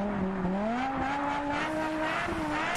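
A BMW M5 engine screams during a police chase on a highway, a loud sustained high-revving note that climbs steadily with gear-like steps, close and continuous.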